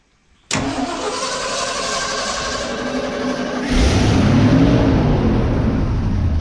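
A 1977 Ford F600 truck engine cranks and catches, then idles steadily before revving up louder and rougher midway, close and alone with no voices.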